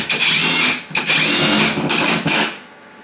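A power drill backs long screws out of a wall-mounted French cleat in plasterboard in a new build house, with three loud, close whirring bursts separated by brief pauses.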